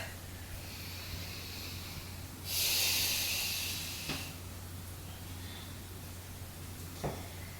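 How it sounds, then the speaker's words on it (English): During a yoga flow a person draws slow, deep breaths, with one long, close, hissing exhale standing out in the middle, surrounded by quieter breathing and a couple of brief soft sniffs or clicks against a low hum. "Just take a couple more rounds of breath."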